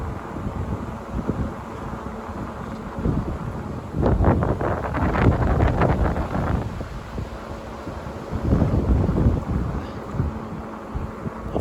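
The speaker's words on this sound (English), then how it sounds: "I fear you're not going to be able to hear me because it's just so windy." Strong wind buffets the microphone while riding a Samebike fatbike electric bike at about 13 mph on level 2 assist, a steady roar with louder gusts midway and near the end, no speech.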